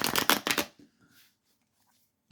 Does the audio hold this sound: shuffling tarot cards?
yes